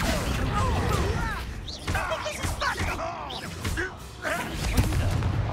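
Confringo spell explosions in the Hogwarts Legacy video game crack out as repeated booming blasts with crashing debris, mixed with game music and effects.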